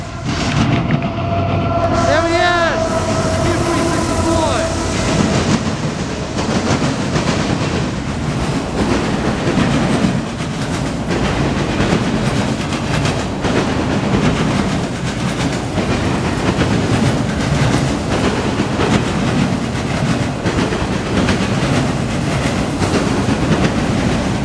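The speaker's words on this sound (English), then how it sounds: "All right, guys, here comes CSX." A CSX eastbound mixed freight train passes in Marion, Ohio, a loud, sustained rumble with steady clickety-clack of wheels over rail joints and a brief horn-like tone near the start.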